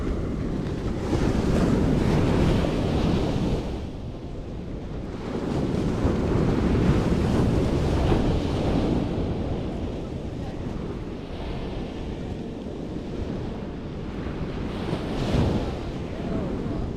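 Ocean surf breaks steadily on a beach, loud broadband wash swelling and easing in slow cycles, heavy wind buffeting the microphone throughout, no talk.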